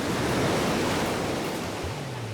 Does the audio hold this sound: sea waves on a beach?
yes